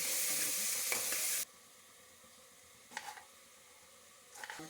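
Fenugreek greens and tomato fry in a pan, opening with a strong sizzle that cuts off sharply, followed by quiet intervals broken by two brief spatula stirs.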